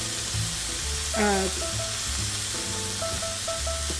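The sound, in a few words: sausage patties frying in a pan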